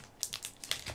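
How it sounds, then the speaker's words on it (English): A tape backer peels away from plastic during a craft project, with a few quick, faint crinkling and ticking bursts heard close up in under a second. "Peel away my tape backer"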